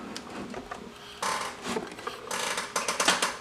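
A cutting machine slices through faux leather, giving a steady mechanical whir with clicking, ratchet-like movements and a few louder bursts of motor activity toward the end, heard up close with no talking.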